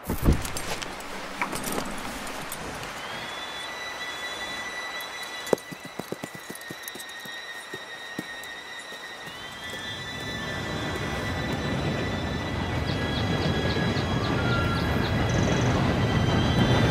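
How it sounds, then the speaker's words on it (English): A train approaches in the video game Red Dead Redemption 2: a low rumble swells steadily over the last several seconds, growing louder and nearer, after a quieter stretch with faint metallic jingles and high whistle-like tones. "Train should be here any minute now."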